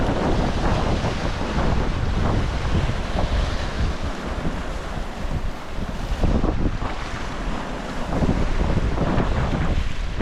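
Loud, constant roar of wind buffeting the microphone over crashing surf at a baywalk in Tanauan, Batangas, dense and unbroken throughout, before dawn with heavy rain threatening.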